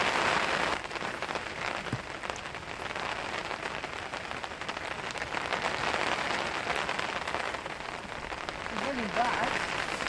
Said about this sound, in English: it's just too rainy, folks